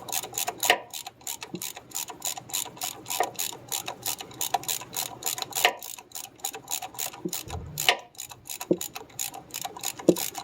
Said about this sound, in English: Alright, 13 deep well. Break the nut, pull it off.